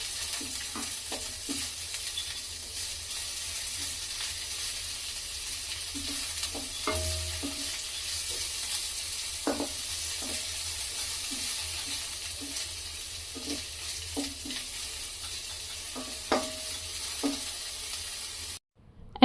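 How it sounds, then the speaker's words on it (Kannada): A spoon stirs green chillies and other ingredients in a frying pan, scraping in irregular strokes over a steady background sizzle, close and fairly quiet with no talking. "ಎಲ್ಲ ಇಂಗ್ರೀಡಿಯೆಂಟ್ಸ್ನು ಸಹ ನೀಟಾಗಿ ಮಿಕ್ಸ್ ಮಾಡ್ಕೋಬೇಕು."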